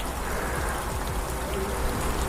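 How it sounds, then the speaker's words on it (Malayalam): Heavy rain pours at Dhanushkodi, a dense, loud, unbroken roar of falling water heard from close under shelter, with no talk. "ഒടുക്കത്തെ മഴയാണ്, 10 മിനിറ്റായിട്ട് മഴ പെയ്തുകൊണ്ടിരിക്കുക"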